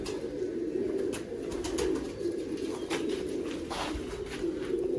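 Steady, low cooing of Sialkoti 35 pigeons fills the scene, a continuous murmuring hum of several birds with faint higher chirps scattered over it.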